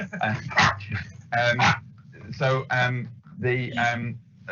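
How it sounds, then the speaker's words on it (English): A dog barks in a home while a parcel is delivered during an online council meeting, giving four or five close, fairly loud bursts of barking and yipping with short pauses between them. "the dog's barking and the person's delivering a parcel"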